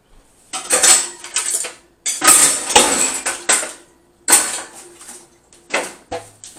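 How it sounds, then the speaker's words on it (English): A metal sheet pan is handled near an oven while baking lemon pound cake, giving loud, close clanks and scraping rattles in irregular bursts with short pauses between. "I think I just want to take the sheet pan."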